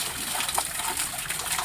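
Hot spring water runs down over rocks beside an abandoned railway trail in Hyogo, Japan, as a steady, close, hissing wash of flowing water without pause.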